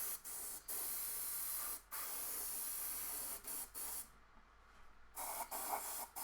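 An airbrush sprays gloss varnish onto a model tank in short, close hissing bursts broken by brief pauses, with a longer gap near the end before spraying resumes.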